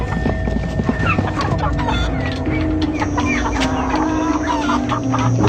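Cartoon chickens clucking in an odd coop set in the corner of a warehouse, busy overlapping clucks and squawks under a steady low ambient bed, with background music and effects.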